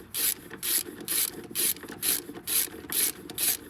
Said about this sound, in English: The ratchet's just to get them snug